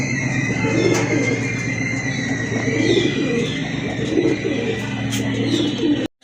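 A pair of Gorra pigeons coos steadily and close by, their low throaty calls rolling on without a break through the whole stretch.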